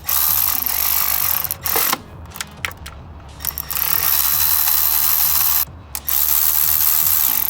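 Hand ratchet tightening bolts on a VQ35DE engine during a valve cover replacement, with close, loud bursts of fast clicking broken by brief pauses as the handle is reset.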